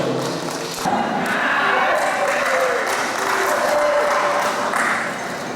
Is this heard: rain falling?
no